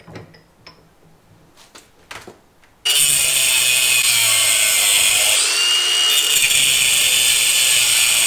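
A power tool cuts through threaded rod for a kayak trailer build, starting abruptly after a few quiet clicks and handling sounds, then running as a loud, steady, high-pitched metallic whine that holds for several seconds with a brief pitch shift.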